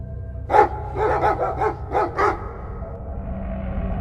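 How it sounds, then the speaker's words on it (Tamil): A dog barks a burst of sharp, loud barks, one then a quick run of several more, before falling quiet against a low background rumble. "அங்க இருந்த நாய்கள் எல்லாம் பயங்கரமா குறைக்க ஆரம்பிச்சிருக்கு"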